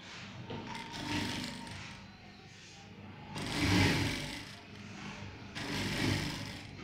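A sewing machine stitches the belt fabric of a men's trousers in continuous whirring runs that swell and ease in a few waves, close and moderately loud with no talk.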